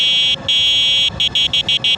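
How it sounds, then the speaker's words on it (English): Horn of a Luckeep M5 Max electric bike sounded outdoors on a trail: two longer electronic beeps followed by four quick short beeps, close and clear. "let's try out the horn"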